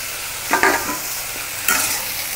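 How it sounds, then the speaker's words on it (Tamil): Ginger garlic paste is stirred and fried in a pan with salt, turmeric and chili powder for a Tamil potato fry, with two scraping stirs over a steady sizzle and no voices. "இது போட்டு நல்லா கிளறி விட்டுட்டு ஒரு தட்டு போட்டு மூடி வச்சிடலாம்."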